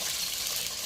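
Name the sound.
pouring water into pot for nilagang baboy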